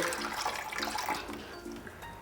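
Half a cup of water poured into a cooking pot for a jackfruit dish, a soft steady splashing trickle running for a couple of seconds with faint background noise.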